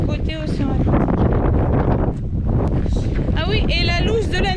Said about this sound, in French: on se tape le bon vent du côté océan Atlantique